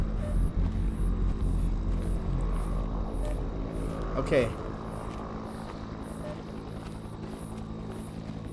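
A helicopter in an alien abduction horror video game gives a steady, rumbling rotor drone that fills the whole stretch, with a brief spoken word over it.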